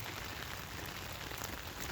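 Steady rain falls outdoors on a soggy evening, a dense, even hiss of drops spread across the whole clip with no talk over it.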